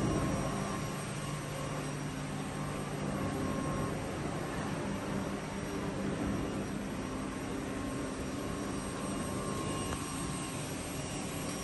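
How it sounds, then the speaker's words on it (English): The huge blowers in a yacht's engine room give off a steady, dense roar with a faint whine on top, constant and unchanging throughout, with no voices. "The huge blowers."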